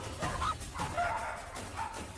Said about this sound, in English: So now she trots around and barking, yapping away, and in every dog's face.